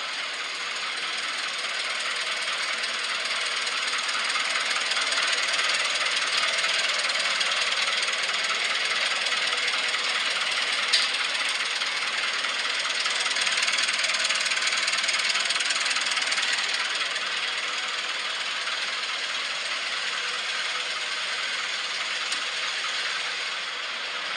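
An old tractor engine, started without a key after sitting for years, runs with a steady, loud, rattling drone for the whole stretch, close by and without talk over it.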